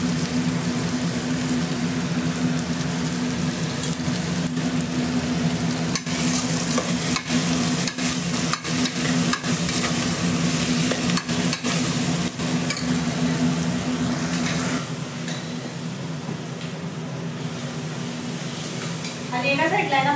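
Green chillies sizzle loudly in hot oil in a pan while a spoon stirs and scrapes at them in repeated strokes. The steady frying hiss runs throughout, with some faint household noise behind it.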